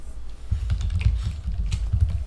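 Typing on a computer keyboard, a quick run of soft, close key taps in an irregular rhythm, heard alone without any talk.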